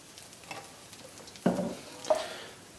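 Thai yellow curry paste stirred in oil in a pan over moderate heat, a quiet low sizzle broken by two distinct scraping stirs, close and without talk.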